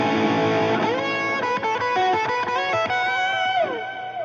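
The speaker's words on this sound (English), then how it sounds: "This is my gain drive sound." Electric guitar lead with overdrive pedals stacked as gain stages, playing a sustained, distorted melodic line with bends and slides, loud and close with no voices.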